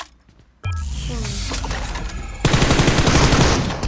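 Rapid automatic gunfire from a video game fires in dense bursts that grow louder midway, with voices talking over the shooting.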